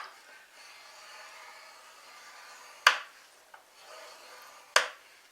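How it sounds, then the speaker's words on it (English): A scoring tool pressed along card stock for a greeting card box, two sharp close snapping strokes a couple of seconds apart over a soft hiss, with faint rubbing between. "we're going to score this at 3/4 inch."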